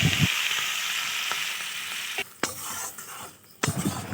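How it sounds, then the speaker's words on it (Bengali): Gule fish curry frying in a pan sizzles loudly, then hot water is poured in and the hiss drops and sputters, with sharp scraping stirs and clinks of a utensil against the pot. "এবার দিয়ে দেবো পরিমাণ মতো জল। জলটা কিন্তু গরম করে নিয়েছিলাম।"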